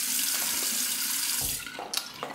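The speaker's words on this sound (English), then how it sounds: "Rinse the face with cold water." Cold tap water runs into a bathroom sink as the face is rinsed after a wet shave, a steady close splashing that breaks into brief splashes and drips near the end.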